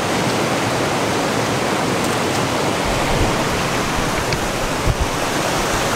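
The waterfall at the Devil's Pulpit gorge roars as a steady, dense rush of falling water, loud and unbroken, with no voices.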